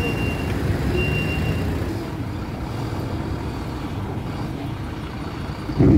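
Large vehicles roll onto a river ferry crossing to Sergipe, a steady heavy engine rumble with a couple of brief high beeps early on and a dull thump at the end.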